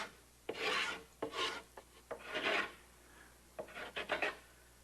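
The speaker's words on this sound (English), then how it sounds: "Now I want to bevel the entire bottom edge of the transom" A hand rasp or plane works along the bottom edge of a wooden boat transom, giving a series of close, rhythmic rasping strokes with short pauses between them.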